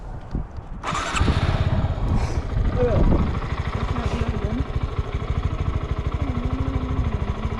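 A motorcycle engine catches, then is revved with small bursts of gas before settling into a steady, close idle, with people talking over it.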